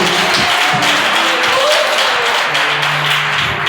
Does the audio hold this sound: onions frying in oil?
no